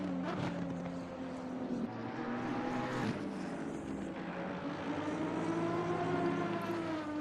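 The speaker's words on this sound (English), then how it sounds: "Just have a listen whilst this comes by. Oh, the bumblebee noise that comes off of this car." An Aston Martin V12 GT3 race car in a racing video game sweeps past with a steady, buzzing engine drone that rises and shifts pitch as it passes, holding fairly loud throughout with no talk over it.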